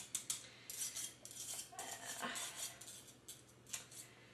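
A metal spoon clatters and scrapes against a bowl while spices are tossed in, with a run of quick, bright metallic clinks and rattles close up and no talking.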